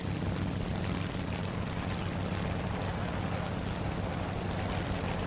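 Propeller engine of an I-16 fighter plane in a flight combat video game, a dense, steady drone with no break, loud and close throughout.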